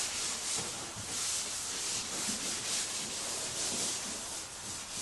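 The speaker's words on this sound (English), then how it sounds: "All we're doing is just scuffing up the surface, kind of trying to prepare it to take the dye." Someone scuffs the hull surface of a Bass Tracker boat in a workshop to prepare it for dye. The result is a continuous soft rubbing and sanding hiss at low volume, fairly even in rhythm, with no speech.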